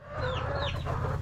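Homestead chickens clucking close by, a short run of soft throaty clucks with a couple of rising squawky notes over a low steady background hum.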